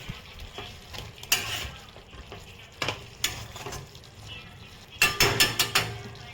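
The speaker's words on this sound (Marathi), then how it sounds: "आता आपले व्हेजिटेबल कुक होत आहे" Vegetables for veg biryani cooking in a covered pot over a low flame, with a soft sizzle under sharp clinks as a spoon scrapes and stirs against the pot, loudest in a quick burst of strokes near the end.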